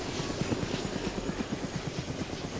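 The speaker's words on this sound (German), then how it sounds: "Da kommt der Heli direkt vor uns." A helicopter in the video game DayZ passing close by, its rotor thumping in a fast even pulse over a broad engine whine, steady and fairly loud with no talk.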